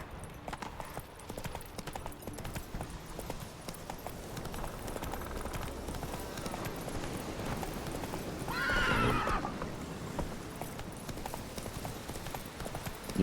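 Roach, the horse in The Witcher 3, gallops with quick, rhythmic hoofbeats, then lets out a loud, drawn-out neigh near the end, over a faint game background.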